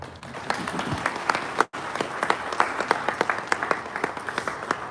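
Steady audience applause for the president at a Ghana–Czech business delegation event, distinct individual claps standing out over a crowd, broken by a brief gap before resuming strongly.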